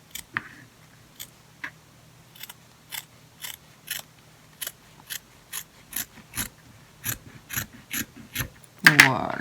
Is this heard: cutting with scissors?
yes